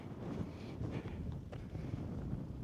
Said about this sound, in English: This is the windy part.